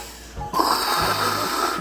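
Someone mimics breathing through a scuba regulator, with a short gasp followed by a long, rough, hissing inhale-exhale, close to the mic and without speech.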